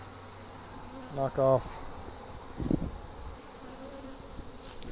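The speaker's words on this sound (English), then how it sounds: "We're talking about a lot of bees here." A large swarm of honey bees, held too long in a swarm trap, hums in a constant low buzz while a voice briefly speaks over it.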